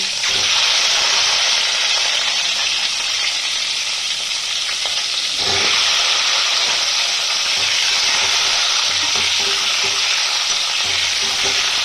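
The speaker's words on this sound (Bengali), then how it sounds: "এবার আমি ওই তেলের মধ্যে সেদ্ধ করে রাখা ডিমগুলো একে একে দিয়ে দেবো আর ভালো করে সাঁতলে নেব" Halved boiled eggs frying in hot oil in a pan for an egg and cauliflower curry, a loud, steady sizzle and hiss that swells again midway as more eggs go in, with no talking.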